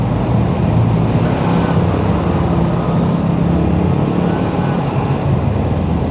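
Road traffic in a traffic jam, a dense, steady low rumble of engines and tires from many vehicles close by, continuous with no speech.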